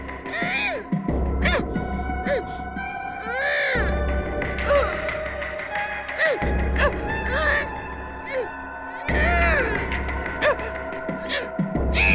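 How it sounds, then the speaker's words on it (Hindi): Recorded crying plays from a tape recorder in a room: wailing sobs with rising and falling pitch come in repeated bursts over a low hum, with the playback sounding slightly thin and artificial. "रोने की आवाज?"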